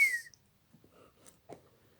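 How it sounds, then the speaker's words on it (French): A whistle from an old man with no teeth opens with a bright rising tone, then fades into quiet with faint rustles and a brief noisy burst later on. "même sans dents, j'arrive à siffler"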